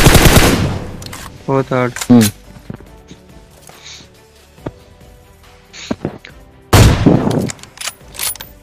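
Gunfire in a battle royale video game, several sharp bursts and single shots cracking loudly between pauses, with someone talking over parts of it.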